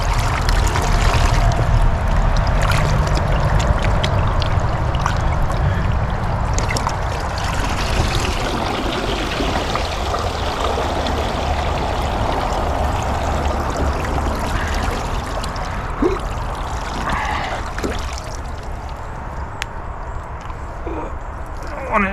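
Water running and splashing continuously while a deer hide is rinsed, a steady close wash of trickling and sloshing that holds throughout with a few small knocks and movements.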